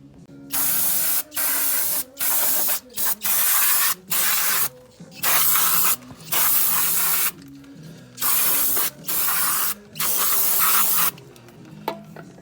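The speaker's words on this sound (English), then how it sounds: "we'll get in there and clean this all up with some brake cleaner" Brake cleaner from an aerosol can sprays onto the rear brakes of a 2018 Jeep Grand Cherokee. Roughly a dozen loud, close hissing bursts of about half a second to a second each are separated by brief pauses.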